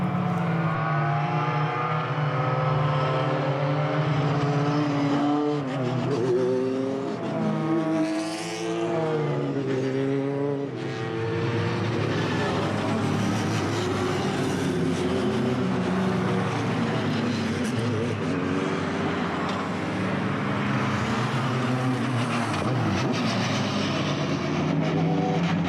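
Formula BOSS race cars circle the Mondello circuit, engines rising and falling in pitch as several cars pass and accelerate, a steady layered roar at moderate distance throughout.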